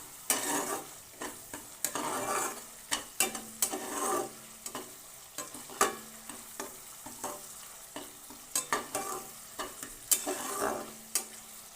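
Eggplant tossed with spices and a little sugar in a frying pan for a vegetarian begun basanti, a spatula scraping in steady repeated strokes over a soft sizzle, close and clear, no voices.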